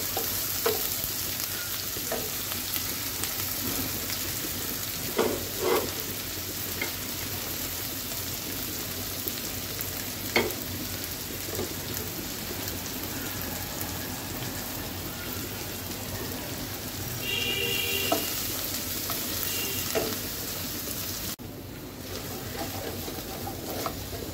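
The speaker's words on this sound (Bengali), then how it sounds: "পেঁয়াজটাকে একটু ভেজে নিব, মোটামুটি ভেজে নিব।" Onions fry in a pan for chicken kofta kalia, giving a steady close sizzle with occasional clinks and stirring scrapes.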